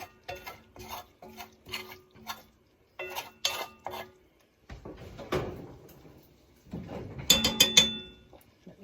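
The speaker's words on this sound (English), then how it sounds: "all that stuff on the bottom of your skillet, you want to scrape that up" Spatula scraping and stirring drippings off the bottom of a skillet while making biscuit gravy, a series of short rhythmic metallic scrapes and clinks, close and clear.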